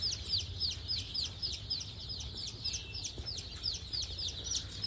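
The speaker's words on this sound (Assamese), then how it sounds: "এতিয়া মোৰ পোৱালি 10 দিন হৈছে বয়স" Ten-day-old local chicken chicks peeping in quick, high, repeated chirps, many overlapping and close by, over a low steady hum.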